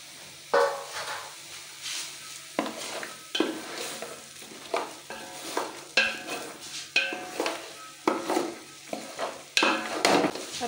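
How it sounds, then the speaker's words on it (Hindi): Boiled meat is stirred in a cooking pot, with a series of scraping, sizzling stirring strokes coming in regular bursts about every second, close and clear. "अब हम इसमें गोश्त ऐड करेंगे"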